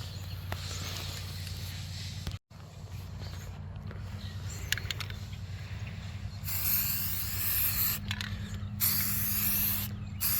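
A spray can lays a final coat of primer on an Aerotech Sumo model rocket with hissing bursts in the second half, over a constant low background hum with a few small mechanical clicks earlier.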